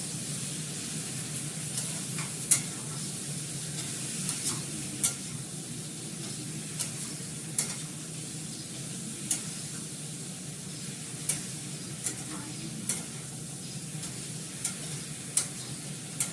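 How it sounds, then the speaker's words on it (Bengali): Food sautés in a pan, in a low-oil home cooking setup, with a steady sizzle underneath and regular, spaced scrapes and taps of a spatula as it is stirred, close and alone without talk. "এটা আমি ভালো করে কষাবো"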